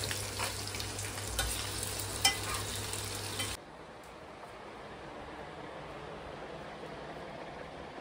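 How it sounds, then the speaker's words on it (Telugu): Chicken frying in a pan until golden brown, a loud steady sizzle and stirring for the first few seconds, then dropping to a softer, quieter frying hiss for the rest. "గోల్డెన్ బ్రౌన్ కలర్ వచ్చే వరకు వేపాలి."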